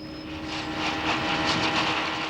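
Speedboats and jet skis roar across a Canadian lake, a continuous engine drone that swells slightly and stays steady throughout, moderately close, with no voices.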